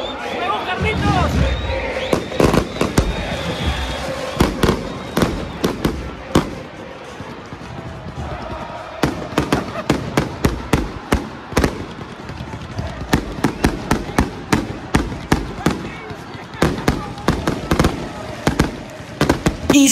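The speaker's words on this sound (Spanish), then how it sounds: "al minuto 68 van a hacer los fuegos artificiales" Fireworks set off inside a football stadium at a Club Atlético Belgrano match: loud, sharp bangs and crackles fire in rapid, irregular volleys over a roaring crowd, with voices mixed in.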